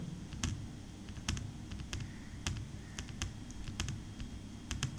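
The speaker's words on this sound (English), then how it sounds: "Click on cell A1 and then we will type in the formula bar" Quiet computer keyboard typing, irregular bursts of light key clicks over a low background hum, close but faint.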